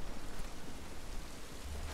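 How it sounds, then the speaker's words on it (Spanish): Steady rain falls outdoors in The Last of Us, a close, dense hiss of drops with a low rumble underneath, continuous and even, with no voices over it. "Esta lluvia no nos va a ayudar."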